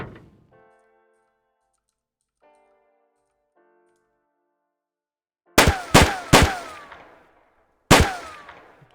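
An unfinished pistol in the indie game DropZone fires four sharp, loud, isolated shots: three in quick succession, then a fourth after a short pause, each with a brief ringing tail, preceded by faint soft clicks.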